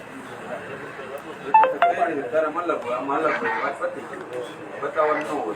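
Short electronic tones sound as a phone number is dialed, a few beeps in quick succession under and between people talking close by.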